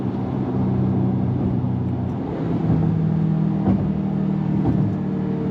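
A 2025 Ford Maverick Lobo truck with manual shifting drives along with a steady, close engine rumble. The note rises and falls slightly as it shifts through the gears, and no one speaks.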